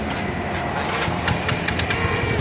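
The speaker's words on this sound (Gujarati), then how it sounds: "બાઇક બંધ થઈ ગયું ગાઈસ" A motorcycle engine runs with a steady, fairly loud broadband rumble throughout, close by and without voices, holding an even drone over the short stretch.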